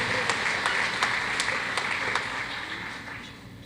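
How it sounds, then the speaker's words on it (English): A commencement ceremony audience in an auditorium applauds elected officials from the Tennessee General Assembly, a steady wash of many hands clapping that fades slightly toward the end, with no talking over it. "Could we have a round of applause for all of our elected officials from the Tennessee General Assembly?"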